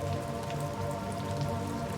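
Steady rain falls through a forest on a rainy night, a dense, even patter of drops on leaves and ground that continues without pause, with no voices.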